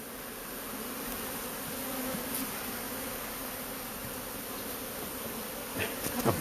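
A swarm of honeybees buzzing in a dense, steady drone close by, with faint handling noises near the end.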